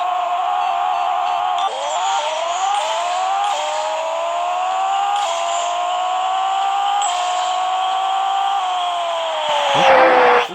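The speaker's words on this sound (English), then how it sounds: "That's a Prius with titanium exhaust." A Toyota Prius fitted with a titanium exhaust drives hard, its engine note rising steadily through several gears with brief dips at each shift. It is loud, raspy and close, building to a fuller roar near the end before cutting off abruptly.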